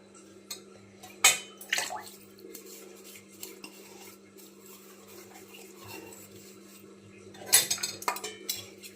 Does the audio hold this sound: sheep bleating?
no